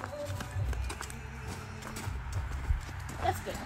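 Ponies trotting on a farm, their hooves clip-clopping steadily at close range under soft voices and low rumbling background noise.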